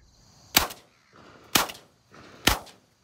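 Three loud, sharp shotgun blasts ring out outdoors during a crow hunt, spaced about a second apart, each with a short echoing tail and no talking.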